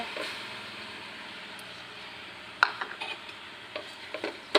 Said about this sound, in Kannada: ಸೋಸ್ಕೊಂಡಿದ್ದಕ್ಕೆ ಕೊಬ್ಬರಿ ತುರಿ ಹಾಕ್ಕೊಳ್ಳೋಣ